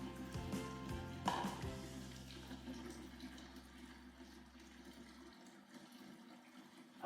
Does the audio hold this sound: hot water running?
yes